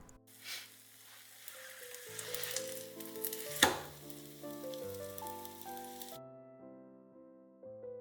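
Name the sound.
steamed glutinous rice cake pan-frying on electric griddle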